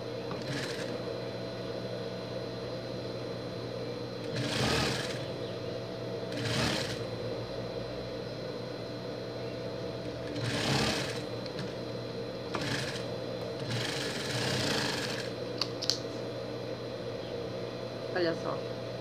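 A sewing machine stitches pieces of a Minions pet costume in short bursts, several runs of a few seconds separated by pauses, over a steady low hum, with someone talking throughout.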